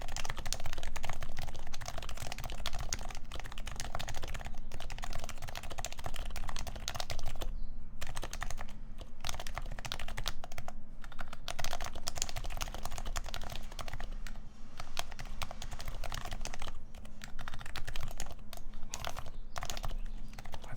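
A freshly built computer keyboard is typed on in a dense, continuous clatter of keystrokes with brief pauses, close and steady.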